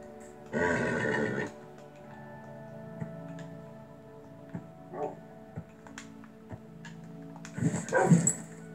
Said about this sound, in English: So we need a saddle and some diamond horse armor, and we'll use a lead.